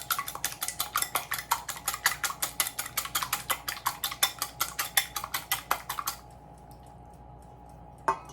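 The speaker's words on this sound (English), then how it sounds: "So I add 2 eggs lightly beaten in the coconut." Beaten eggs mixed into grated coconut in a bowl, a quick regular series of clinking, tapping strokes against the bowl, close and moderately loud, stopping abruptly near the end before one last tap.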